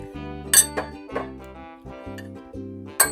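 Glasses of soju clink together in a toast during a late-night pork-neck meal. A few sharp, bright clinks are spaced apart over a steady tonal hum.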